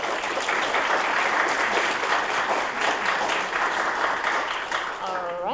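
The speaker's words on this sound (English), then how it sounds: "I just wanted to give a big applause for everyone." Sustained applause from attendees at a monthly meeting, a steady, fairly close roar of many clapping hands lasting about five seconds before a voice starts to speak at the very end.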